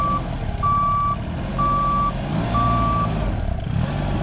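A truck ploughs snow on a winter street in Stockholm, Sweden; a loud reversing beeper sounds in four evenly spaced tones over the low rumble of the engine.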